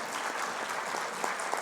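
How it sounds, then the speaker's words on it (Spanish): Audience applause at a formal judicial ceremony, steady dense clapping from a crowd throughout, fairly close and even in loudness, with no talking. "Nuevamente un fuerte aplauso"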